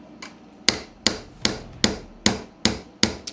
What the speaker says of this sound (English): I'm going to have to give her a little love tap here with the screwdriver